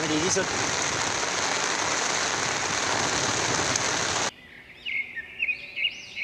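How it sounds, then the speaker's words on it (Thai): Heavy rain pours down at a fishing pond, a loud dense hiss that cuts off abruptly, followed by quieter moments with bird chirps. "ฝนตกครับผม ฝนตกรุนแรง"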